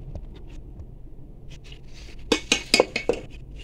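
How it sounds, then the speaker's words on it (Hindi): Cumin rice being scooped from a pot onto a tray, a short cluster of close metallic clinks and scrapes of a serving spoon after a quiet stretch. "पहले से हमने एक ट्रे ले लिया है, इसमें हम चावल निकालेंगे"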